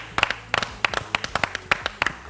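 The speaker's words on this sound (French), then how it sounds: "Ça s'applaudit" A few people on a comedy show clap in sharp, separate bursts, crisp close handclaps in an uneven rhythm of roughly a dozen strikes, without any voice over them.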